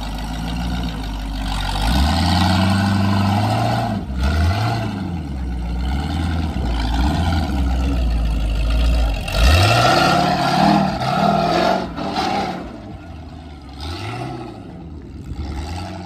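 Off-road trophy-sprint vehicle engine firing up and running, deep low rumble with repeated revving surges that rise and fall across the whole stretch, close and loud, with no voices.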